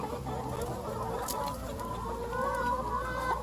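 Backyard chickens on a farm in Guyana cluck continuously and close by, a busy overlapping chatter of hens alone with no talk.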